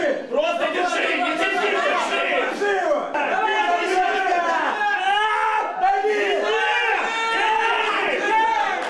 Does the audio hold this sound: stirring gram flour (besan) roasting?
no